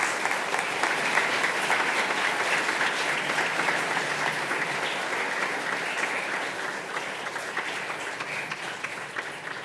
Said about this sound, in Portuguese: A estes meninos e meninas damos uma grande salva de palmas.